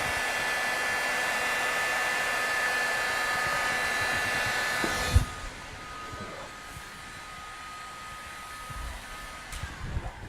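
A heat gun blows a loud, steady hiss while warming vinyl wrap film over a sharply dented car body panel, then cuts off abruptly about halfway, leaving quieter room sound and a few faint handling knocks.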